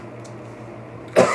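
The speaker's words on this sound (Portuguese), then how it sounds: "Tá tossindo, né," A single sharp cough bursts out near the end, loud and close after a stretch of quiet room hum.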